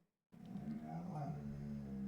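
A pet dog grunting, whining and growling low, starting abruptly and then holding a continuous close, quiet vocalization for about two seconds.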